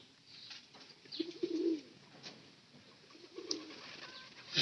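Pigeons coo at low to moderate level in a house where they are fed, with soft, intermittent calls under a steady background hiss and a few brief sharper noises.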